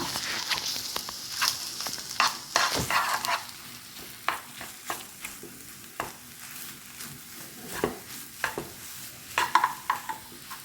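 Broccoli and carrot thoran is stirred in a pan with a spatula, making irregular scraping and clattering strokes over a faint sizzle. The strokes come at an uneven rhythm, sound close by and are heard without any talk.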